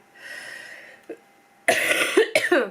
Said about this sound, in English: Oh, stop coughing.